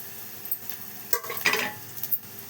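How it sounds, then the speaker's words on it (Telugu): Two dried red chillies dropped into a hot frying tempering for a dal, giving brief crackling sizzles and a few spoon clinks against the pan over a quiet background. "ఇప్పుడు ఈ 2 ఎండుమిర్చి వేసేద్దాం."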